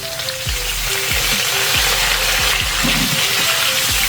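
Soy sauce hits a hot pan of pork and fried tofu, producing a loud, steady sizzle with crackling pops and light stirring clatter throughout.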